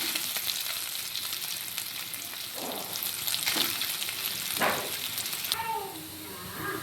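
Boiled soybeans rubbed with salt and turmeric fry in hot oil until browned, giving a close, steady sizzle broken by a few sharper stirring scrapes, with a faint voice in the background.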